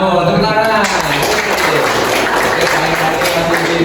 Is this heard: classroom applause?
yes